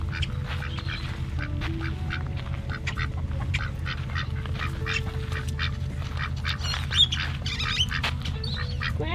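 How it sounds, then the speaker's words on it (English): A flock of ducks, a pure white one among them, quack and squawk steadily over a low background rumble, with the calls close and overlapping throughout. "White Savior is our pure white duck."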